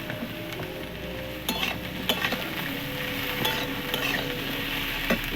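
Tomatoes fry together in a hot pan of sambar base while a spoon stirs them, a steady close sizzle running throughout with scattered light scraping knocks from the stirring.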